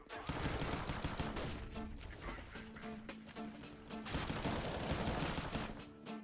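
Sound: gunfire from a video game shootout

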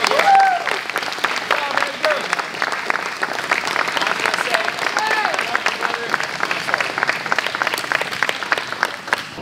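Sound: audience applause for a competitor

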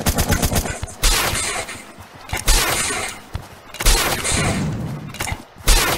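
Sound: shotgun gunfire in a video game

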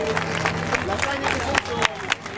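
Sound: audience applause

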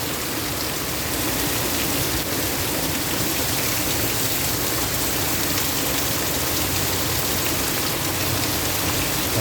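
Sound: heavy rain

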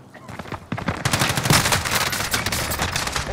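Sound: gunfire in Call of Duty Warzone video game

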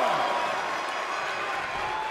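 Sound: wrestling crowd cheering in video game WWE 2K22

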